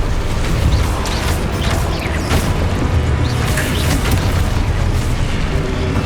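A steady barrage of booming explosions from spells in the video game Hogwarts Legacy, dense and loud throughout without pause.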